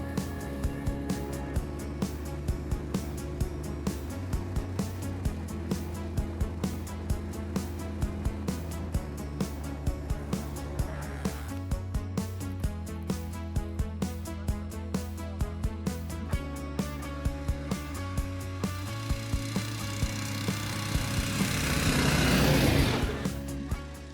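A cheap snowmobile with no heaters and a mechanical brake runs steadily while riding a bumpy forest road in search of deep snow, its engine droning at a constant pitch, with a rising rush near the end.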